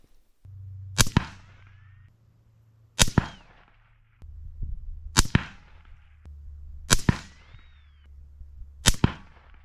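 Five sharp rifle shots fired at a target 100 metres away during a scope test, each a loud crack with a short decaying tail, spaced about two seconds apart over a steady low engine-like hum.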